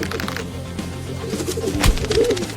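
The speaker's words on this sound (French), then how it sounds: "Et qu'est-ce que tu manges, monsieur Pigeon?" A pigeon coos in soft, low repeated calls close by, set against a steady background of music-like tones.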